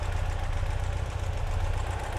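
A 2018 Ural Gear Up motorcycle engine idles just after a cold start, a steady low, throbbing rumble, close and even, with no talking.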